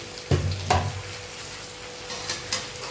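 Masala and vegetables frying in oil in a home kitchen give a low steady sizzle, with two close spoon knocks against the pan early on and softer stirring scrapes later.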